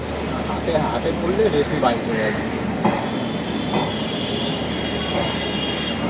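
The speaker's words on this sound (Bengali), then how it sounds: "কলকাতা থেকে সঠিক সময়ে রওনা দিল মুর্শিদাবাদের উদ্দেশ্যে আমাদের ট্রেন" The Hazarduari Express train runs from Kolkata toward Murshidabad with a continuous rumbling clatter of wheels on rails, steady throughout, while people talk nearby.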